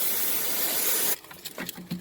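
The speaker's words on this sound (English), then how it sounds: "gonna spray this electronic cleaner into the little sockets" An aerosol can of electronic cleaner sprays steadily into small connector sockets for about a second, a loud continuous hiss, then cuts off, leaving faint handling clicks and rustles.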